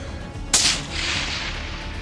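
A single sharp rifle gunshot during a walk-and-stalk hunt for spiral-horned antelope, loud and close, with a crack followed by a rolling echo that decays over about a second amid quiet outdoor ambience.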